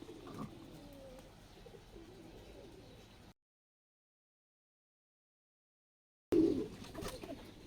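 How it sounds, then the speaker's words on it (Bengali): Wild forest pigeons cooing in a coop, soft low throaty coos near the start, then a gap of silence before the cooing and faint ambient sound resume. "এই যে জোড়া নর কবুতরটা মাদি কবুতরটাকে এইভাবে ডিস্টার্ব করে"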